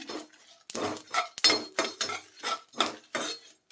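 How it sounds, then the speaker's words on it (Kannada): Dry red chillies going into a pan for tamarind chutney, heard as a run of close, bright metallic scrapes and clinks of spoon against pan in an uneven rhythm. "ಈಗ ಒಣಮೆಣಸು ಹಾಕ್ಕೊಳ್ತೀನಿ"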